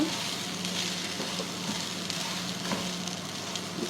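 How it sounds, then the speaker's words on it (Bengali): Rice is stirred and fried in a pot for beef tehari, a steady close hiss of frying with faint crackles and a few light stirring touches, and no speech. "চালকে ভালোভাবে 3-4 মিনিট নাড়ব।"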